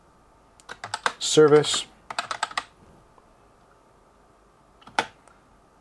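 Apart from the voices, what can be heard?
typing a PowerShell command on a computer keyboard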